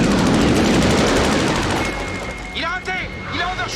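Rapid aircraft cannon and machine-gun bursts in a Top Gun jet dogfight scene, a dense rattling barrage up front that thins into whooshes and beeping tones, with French-dubbed voices talking over it.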